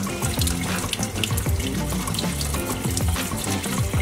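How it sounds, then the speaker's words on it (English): A kitchen tap runs steadily as a bouncing egg from a kids' science experiment is rinsed under the water, giving a loud, continuous splashing gush close by with no talking. "This is our bouncing egg after 2 days, so I'm going to wash it."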